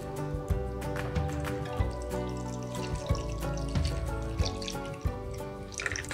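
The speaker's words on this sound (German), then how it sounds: "geben hier so viel Wasser ein, dass dieses dann schlussendlich durch unsere Abwasserrohre abfließen kann" Water pours steadily into a newly fitted ACO shower channel drain in a level-entry shower and gurgles away through the waste pipes, running on with a continuous splashing rush and no talking.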